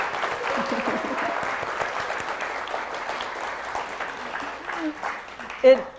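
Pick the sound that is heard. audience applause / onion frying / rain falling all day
audience applause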